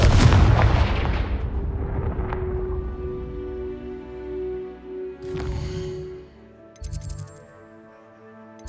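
A Confringo spell blast in Hogwarts Legacy lands as one loud, close boom that rings out and decays slowly, followed by quieter thuds and a few bright magical tinkles.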